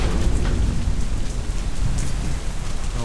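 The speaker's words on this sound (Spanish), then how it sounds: "Maldita tormenta." Heavy rainstorm with thunder in the video game Deadlight: loud, dense rain rushing over surfaces with a deep low rumble underneath, constant and close for the whole stretch, no voices.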